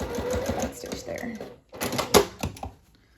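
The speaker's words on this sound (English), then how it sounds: "stop sewing 1 inch before I get to the bottom. Backstitch there." A sewing machine stitches a seam on a lining for a Fourth of July top, running in bursts with short stops and a backstitch, its mechanical whir mixed with speech.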